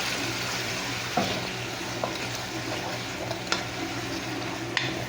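Tomatoes and masala are stirred in a pulao pan, giving a steady low sizzle with a few soft scrapes and clinks of the spoon against the pan.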